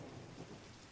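Steady rain with a deep rumble of thunder rolling underneath, a dense continuous wash of sound with no voices.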